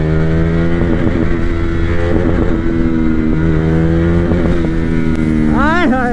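A 2017 BS4 KTM Duke 390 motorcycle runs with a steady, loud, close engine drone and a few blips of throttle, ending in a sharp rising rev while a rider talks over it.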